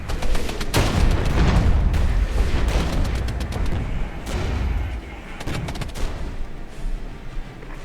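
Heavy gunfire and explosions from the real-time tactics game Regiments roll on in a dense, continuous battle din, with rapid rifle and machine-gun crackle over deep booming artillery blasts, loud and sustained throughout.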